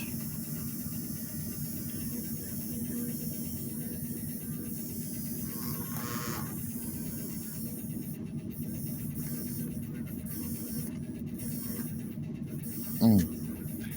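A stalled motor in an Athearn Blue Box B&O ALCo PA1 model locomotive hums steadily and faintly for the whole stretch, with a brief louder click near the end.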